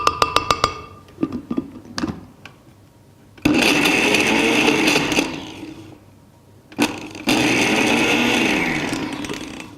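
A blender whirs through a thick peanut butter mixture in short pulses and then two longer loud runs, its motor straining and dipping in pitch as the blades bog down.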